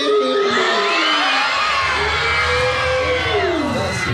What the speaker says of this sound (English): Causing everyone to scream.